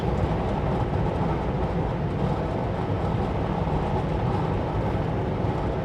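A train rumbling along an active lumber railroad in Castlegar, a loud, steady, close roar of wheels and cars with no pauses and no voices.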